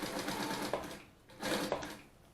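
An industrial walking-foot zigzag sewing machine stitches through four layers of thick faux leather, two close, steady bursts of rapid mechanical chatter with a brief pause between them.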